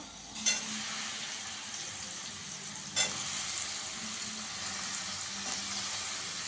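Chicken pieces, chopped onion and capsicum fry in a pan with a continuous, even sizzle, broken twice by brief stirring scrapes, close and without speech.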